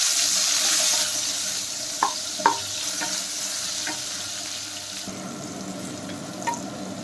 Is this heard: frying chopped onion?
yes